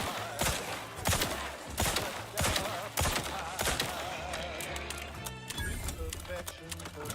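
Weapons fire in The Outer Worlds 2 as a series of sharp, loud bursts roughly every half second, layered over game sound and voices.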